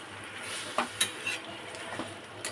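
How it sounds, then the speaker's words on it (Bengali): Food stirred in a cooking pot to keep the bottom from catching, soft sizzling with several light clinks and scrapes of a spoon against metal, quiet and close. "নাড়িয়ে দিলাম"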